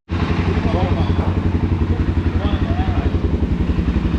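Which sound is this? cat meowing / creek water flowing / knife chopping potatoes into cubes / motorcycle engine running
motorcycle engine running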